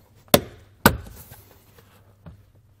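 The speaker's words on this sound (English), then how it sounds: "You're just going to take this center panel here underneath the steering wheel and just pull straight out." Plastic center trim panel under an RV steering wheel pulled straight off, giving two sharp close snapping pops a half second apart, then a faint click, with no talk.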